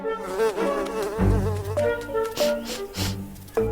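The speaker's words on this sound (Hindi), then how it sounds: "शेर खान एक मक्खी बनकर लौटा है यहाँ।" Buzzing of a fly in a cartoon jungle scene, a steady insect drone weaving through loud orchestral music for a few seconds, with no talking.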